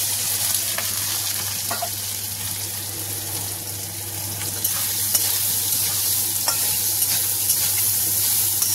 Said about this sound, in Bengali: ওতেই অনেকটা তেল আছে, আমি ওই তেলেই সয়াবিনটা ফ্রাই করে নেব।